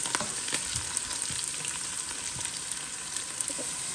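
Onions frying in a pan for chicken biryani, browning with a constant close sizzle broken by light scraping and stirring taps, no talking.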